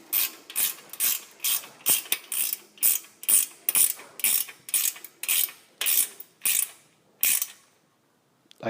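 A ratchet wrench clicks in rapid, regular bursts, about fifteen quick strokes, while it tightens the wheel nuts on an adult tricycle. The sound is close and fairly quiet, ending in silence.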